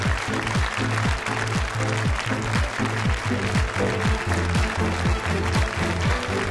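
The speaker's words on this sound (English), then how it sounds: "Do give yourselves a big round of applause" A studio audience at a televised EU referendum debate applauds steadily throughout, loud and continuous, with a rhythmic musical pattern running underneath.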